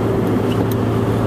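A car engine runs at a loud, constant idle-like drone with a window cracked open, giving a steady low rumble and airy hiss with no speech.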